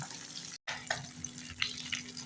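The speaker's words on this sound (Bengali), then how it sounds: "আমি এখন মাছগুলো ভাজা করে নিলাম" Fish frying in a pan gives a steady close hiss and crackle with small spattering pops throughout, broken by one very brief dropout partway through.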